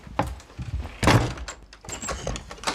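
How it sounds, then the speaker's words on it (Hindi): Several heavy knocks and thumps on a closed door in a Hindi action film scene, arriving in uneven bursts with one loud bang in the middle, close and solid. "अर्शी दरवाजा खोल"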